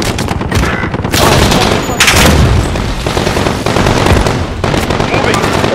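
Loud, dense automatic gunfire in the Call of Duty: Modern Warfare video game, bursts of rapid shots and booms stacked close together with brief gaps.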